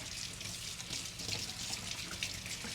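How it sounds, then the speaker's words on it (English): Cold tap water runs steadily into a strainer over a sink, rinsing fermented cucumber seeds, a continuous close splashing hiss with no talk. "I'm going to use cold water, and I'm just going to rinse these"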